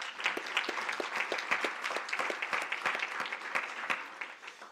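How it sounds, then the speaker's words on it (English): An audience at a conference event gives a round of applause for volunteers, a steady patter of many hands clapping at moderate distance, even and continuous throughout. "So I think I really would like to also just give them a round of applause."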